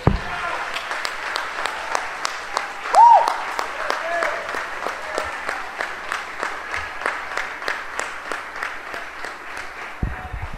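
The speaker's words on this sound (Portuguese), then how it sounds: "Dá uma salva de palmas para Jesus." A church congregation claps for Jesus in fast, rhythmic unison, with loud even beats running for about ten seconds; a brief cheer or shout rises near the start and a voice cuts in at the very end.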